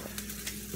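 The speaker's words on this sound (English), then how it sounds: "So the vegetables can get to frying at a low temperature or on medium." A steady, soft sizzle comes from vegetables frying in a pan over low to medium heat, holding an even hiss for under a second with faint crackles and no talk.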